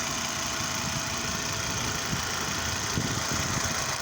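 A 2004 Volvo V70 engine idles steadily with a low, rumbling hum and slight rhythmic knock, close by, with no talking.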